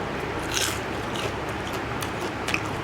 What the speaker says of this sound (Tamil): நல்லா கிறிஸ்பியாக வந்திருக்கேன் நான் ஒன்று சாப்பிட்டு காமிக்கிறேன்